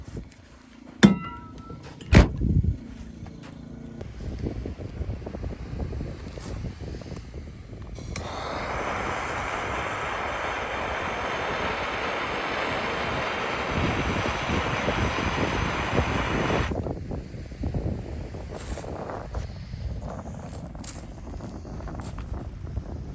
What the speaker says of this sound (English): let me go get a MAP gas torch